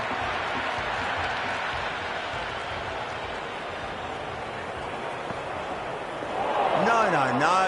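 A stadium crowd in a cricket video game keeps up a steady murmur of cheering under a commentator's voice, swelling louder near the end.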